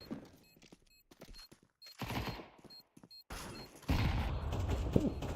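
Bursts of AK rifle fire in Counter-Strike during a CCT East Europe match, coming in short clustered volleys separated by pauses, with a heavier, more sustained stretch of shooting near the end.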